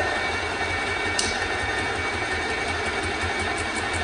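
A Graco 390 PC paint sprayer pump hums and chatters steadily while priming and pressurizing its hose, a dense, even mechanical drone with a faint regular ticking and one brief click near the start.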